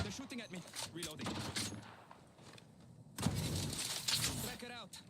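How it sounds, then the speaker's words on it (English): Weapons fire in a hectic Apex Legends match comes as bursts of gunshots and rapid automatic fire, with a sharp louder burst partway through. Voices talk over much of it. "They're shooting at me."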